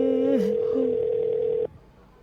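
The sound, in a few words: telephone being dialed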